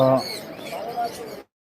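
Birds chirp and coo amid busy market chatter at the Mirpur 1 bird market in Dhaka, with several calls overlapping near and in the background before a sudden break.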